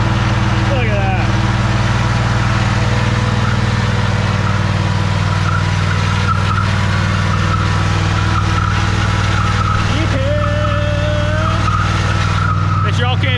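A lawn mower engine runs hard and loud without a break while doing a burnout, a steady droning roar with brief squeal-like rises from spinning tires; voices are faintly heard over it.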